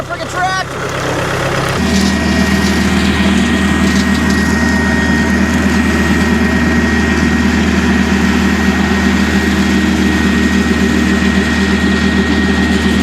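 A tractor engine drones steadily with a brush hog mower running behind it on raw land, a loud, constant low rumble and hum that sets in after a brief rougher start.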